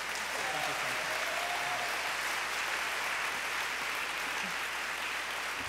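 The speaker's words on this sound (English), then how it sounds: "So please give one more round of applause for Katrina" Steady round of applause from an audience at a live Seattle event for The Nation, a continuous even wash of clapping at moderate level with a faint tonal whistle early on.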